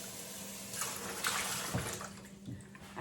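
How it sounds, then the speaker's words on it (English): Tap water runs steadily into a sink as a water bottle is rinsed, with soft splashing and sloshing bursts, close and fairly quiet. "Rinse my water bottle real quick."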